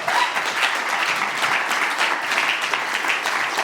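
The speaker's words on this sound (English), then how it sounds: "Let's give these guys a round of applause, shall we?" An audience claps steadily and densely at a talk event, a full, even round of applause for the performers that holds at a constant level with no pauses.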